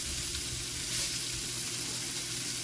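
Smoked sausage pieces sizzle steadily in a skillet, laid flat and browning, with a constant dense crackle and hiss close by and no talking.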